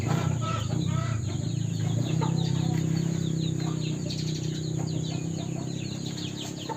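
A mixed flock of chickens, turkeys and ducks clucking and chirping together at close range at feeding time, a busy continuous sound over a steady low hum.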